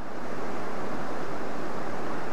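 Soda Butte Creek in Yellowstone rushes past as a steady, loud wash of flowing water, heard close with no voices over it.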